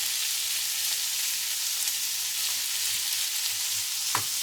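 Chickpeas and chorizo sizzle steadily in a pan as they are stirred, a constant close frying hiss with a soft scrape of the spoon near the end.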